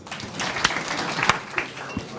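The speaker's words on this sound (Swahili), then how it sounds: "Tumpigie makofi." A seated audience at a talk on investing and inflation gives a short burst of clapping, a soft, scattered patter of hands with a few sharper claps standing out.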